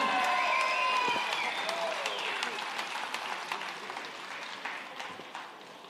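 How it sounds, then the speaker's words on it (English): Arena crowd applauds both fighters after a bout, a broad wash of clapping that fades gradually, with a ringing announcer-style voice and tonal echoes over it at the start. "let's get another big round of applause for both of these fighters."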